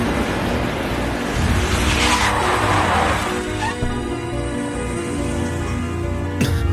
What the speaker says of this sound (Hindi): Stop the car, driver!